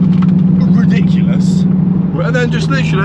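Straight-piped car exhaust droning loud and steady at low pitch throughout while cruising, with someone talking over it and the tone dropping slightly near the end.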